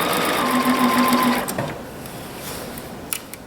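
A Bernina sewing machine runs close by, stitching fabric in a quick, even whir for over a second before easing off to a softer hum with a few light clicks.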